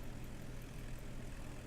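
Propeller airplane engine in the Flight Simulator X game, a steady low droning hum with a constant rumble, continuous and even throughout, without talk.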